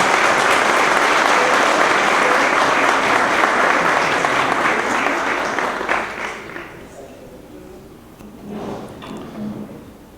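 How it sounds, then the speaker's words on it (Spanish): Loud, dense audience applause at the inauguration of the 2015 Archives Seminar as presidium members take their seats, sustained for several seconds before thinning out, with a few scattered claps and murmurs at the end. "Un aplauso"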